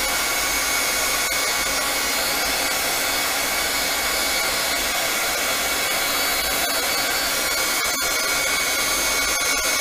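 A heat gun drying a watercolor painting, blowing as a loud steady whirring drone close by for the whole stretch, with a few brief dips and no talk.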